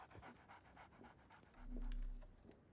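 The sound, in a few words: dog panting in the video game Sherlock Holmes the Awakened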